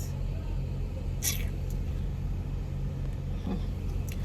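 A car idles in slow, crawling traffic in Enugu, Nigeria, its steady low engine rumble filling the background alongside faint distant road noise and a couple of brief higher clicks.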